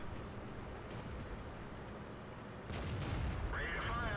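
Heavy tank gun fire in the World of Tanks game, a T29 battle: dense, continuous booming rumble with a louder heavier blast surge near the end, no talk.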